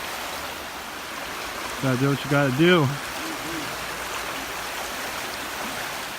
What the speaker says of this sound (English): So we're gonna cross the creek.